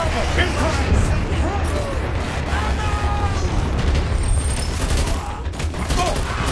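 Fire support artillery strike in the Dirty Bomb shooter game, with a dense barrage of booms and rattling gunfire alongside mechanical creaks, loud and continuous over in-game voice chatter.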